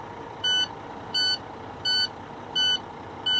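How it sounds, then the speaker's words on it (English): A truck's low air pressure warning alarm beeps five times in an even rhythm, each beep short and loud, over a low idling engine hum. "That beeping was low air warning."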